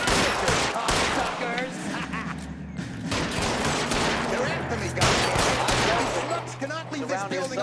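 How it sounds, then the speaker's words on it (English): In the video game L.A. Noire, blind-fire gunshots crack out in dense, rapid bursts, loud and close, with someone talking over the shooting. "Oh yeah, the blind shooting."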